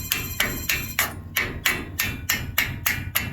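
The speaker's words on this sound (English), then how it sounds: "I'm gonna take a hammer like this and I'm just gonna tap this." A hammer taps a metal part about a dozen times in an even rhythm, each blow a sharp, bright clank close to the listener, with nobody talking between strikes.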